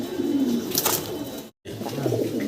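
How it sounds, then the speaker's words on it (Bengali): High flyer Giribaz pigeons give soft, low cooing calls close by, with a brief cut of silence partway through. "হাই ফ্লার গিরিবাজের ভিতরে নটটা খুব চমৎকার ডাকাডাই করতেছে"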